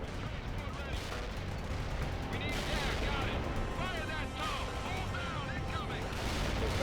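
Artillery fire support pounding down in the strategy game World in Conflict, a steady dense barrage of blasts and gunfire rolling on throughout, with clipped radio voices cutting in over it.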